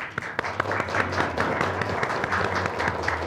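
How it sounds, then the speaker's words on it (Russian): An audience in the hall of a political debate contest applauds the speakers, dense clapping with scattered louder claps over a low rhythmic musical beat, steady throughout. "Ваши аплодисменты спикерам"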